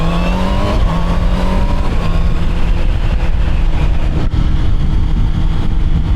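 A Honda CBR 650 E-Clutch motorcycle is ridden at speed, its engine rising in pitch through the gears over steady wind rush, loud and close.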